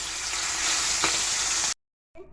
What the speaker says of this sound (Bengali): মাছের মাথাগুলো আমি সুন্দর করে ভেজে নেব